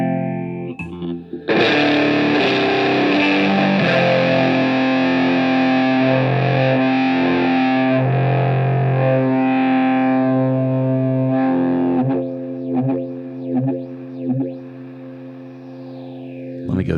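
An electric guitar runs through a phaser into a fuzz pedal, giving thick, distorted sustained chords and notes that sweep and swirl for several seconds. Choppier, stuttering notes follow before the sound fades out, loud and close, with no speech.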